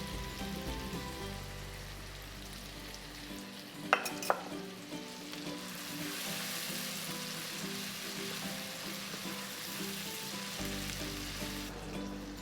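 Tomatoes sauté in a pan for bread channa with a steady, hissing sizzle that swells louder midway. A couple of sharp utensil clicks come early. No voices are heard.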